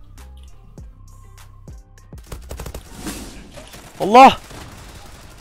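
Glock 18 pistol shots in the Zula video game sound as a handful of sharp cracks spaced across the clip, followed by a loud shouted exclamation.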